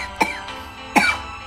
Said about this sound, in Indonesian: Batuk kau kan.